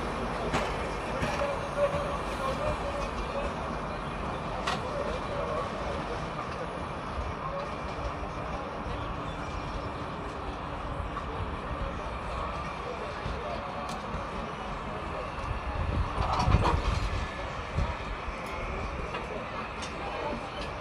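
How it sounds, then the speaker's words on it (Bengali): A Biswabharati Intercity Express train rumbles along the rails with a steady low roar and rattle from inside or near the coach, a brief louder clatter midway, and voices talking faintly in the background. "Visva Bharati intercity express."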